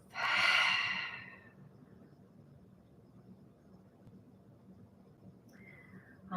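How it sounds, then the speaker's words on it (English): A single long, loud breath out through the mouth during a seated chair yoga class, followed by quiet room tone and the start of another breath at the very end. "Inhale through the nose. Exhale through the mouth."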